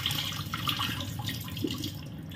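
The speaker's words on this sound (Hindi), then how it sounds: "अभी देखिए इसमें से ये सफेद सा पानी जा रहा होगा" Water runs and splashes in a sink as rice is washed and the white, starchy water drains off, a steady trickle with brief sloshes up close.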